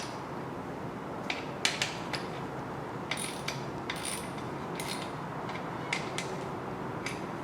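A socket wrench lightly snugs down bolts on a Ford 302 small-block engine, making short, soft ratcheting clicks in several brief bursts over a steady background hum.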